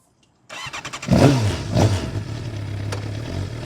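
Suzuki GSXR 750 motorcycle starting up, then revving hard in two loud bursts before settling into a steady, throaty idle, close and alone with no talking.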